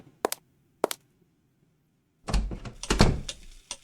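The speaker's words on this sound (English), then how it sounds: "Fine, go back through this door." A door opens in the Sherlock Holmes point-and-click game The Secret of the Silver Earring, two sharp clicks followed after a pause by a louder rattling, thudding swing.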